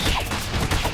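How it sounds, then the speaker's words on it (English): Missile fire and dense explosive bursts in the beat-'em-up video game TMNT: Shredder's Revenge, a loud, continuous barrage of booming blasts filling the second without letup. "More missiles."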